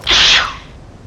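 A single sharp, breathy sneeze bursts out close and loud, then fades quickly into quiet room tone.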